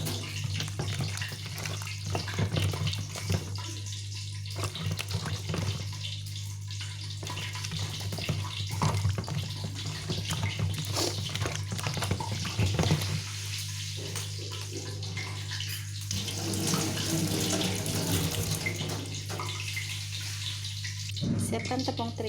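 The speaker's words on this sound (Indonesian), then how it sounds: "Beri air sedikit ya." Water poured into a pan of sweet and sour chicken during cooking, a continuous splashing and running sound with a low steady hum, lasting throughout without anyone speaking.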